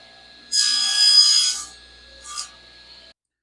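A Delta table saw rips through a piece of wood in a short, close, rasping burst over the high whine of the running blade, followed by a brief second touch before the motor winds down.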